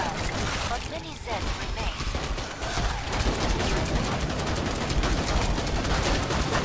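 Bursts of rapid gunfire fill a Killing Floor 2 firefight, dense and continuous with overlapping shots at moderate loudness.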